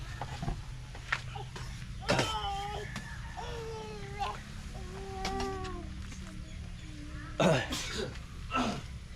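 Several raspy coughs break out, close and harsh, amid rustling background noise and some high, warbling animal-like vocal sounds.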